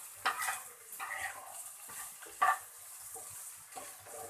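Potatoes fry in a pan for a cauliflower dish, giving a quiet sizzle broken by a few sharp clinks and scrapes of stirring.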